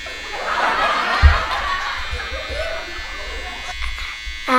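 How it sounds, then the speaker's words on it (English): An electric shaver buzzes steadily up close as it trims a dad's beard at home, with children's voices and giggles over the hum. "I'm shaving my beard"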